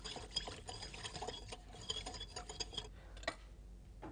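Quiet, close clinking and tapping of a spoon in a bowl while olive oil salad dressing is mixed, irregular light strikes and soft sloshing with no talking.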